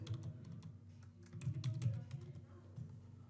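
Soft, continuous clicking of computer keyboard keys as text is typed into a workflow name field, quiet and close, in irregular quick bursts with no voices.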